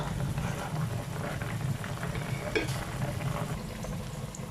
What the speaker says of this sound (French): Je vais laisser encore bouillir